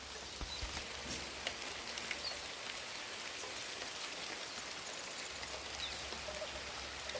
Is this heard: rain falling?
yes